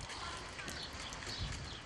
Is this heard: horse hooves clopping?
yes